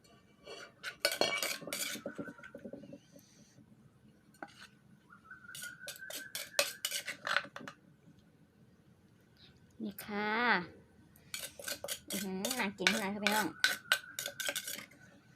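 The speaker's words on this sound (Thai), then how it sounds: "ตักใส่จานได้เลยนะคะ" Metal spoon scraping and clinking against a pot and plate while cooked food is scooped out in a home kitchen, irregular bursts of close clatter with someone talking in between.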